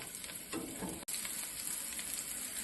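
Soybeans frying in a pan on low flame, a steady close hiss of sizzling oil running throughout with a brief stir or scrape near the start.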